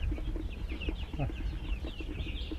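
Whiting True Blue chickens and other hens of a small backyard homestead flock cluck softly and steadily in the background over constant outdoor ambience.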